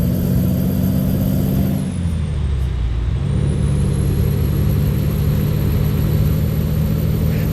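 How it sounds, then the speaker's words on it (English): A Detroit diesel big-rig truck engine in American Truck Simulator drones steadily and loud throughout, dipping briefly in pitch around a gear change before settling back into a constant heavy rumble with no talk. "The Detroit diesel doesn't sound too bad."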